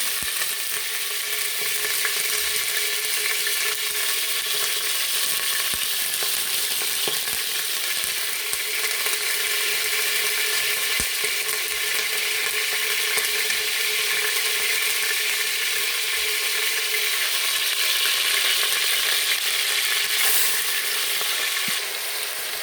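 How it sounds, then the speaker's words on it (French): Beef browning in a pot over medium heat for a bourguignon gives a steady, even sizzle, close and continuous, with no talk. "voilà ma viande qui est en train de rissoler à feu moyen"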